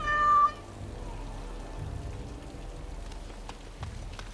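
A cat named Sir Pouncelot in the video game Dragon Age Awakening gives one short, clear meow at the start, then a soft, steady patter like rain carries on alone.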